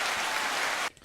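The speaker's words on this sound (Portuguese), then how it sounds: "essas palmas são para vocês" Applause from a podcast audience, a dense steady wash of clapping that stops abruptly near the end, leaving near silence.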